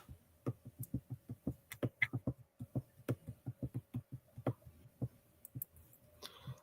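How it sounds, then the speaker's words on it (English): Keyboard typing in a quick, fairly regular run of sharp clicks, close and quiet with short pauses, no one talking. "I heard you typing."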